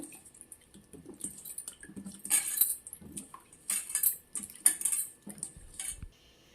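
Knife slicing soaked mushrooms on a board for fried rice, a string of crisp, close cutting clicks and chops in irregular bursts, with no voices.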